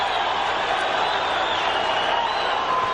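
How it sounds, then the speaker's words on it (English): Crowd noise at a boxing match, Sugar Ray Leonard against Dick Ecklund, a steady roar of cheering and murmuring spectators that stays even and loud for the whole stretch, with no clear individual voices rising above it. "Crowd likes it."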